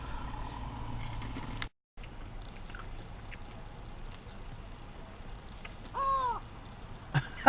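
A harsh, crow-like caw from a gull mimicking a crow rises out of a steady outdoor background, with a short second call near the end.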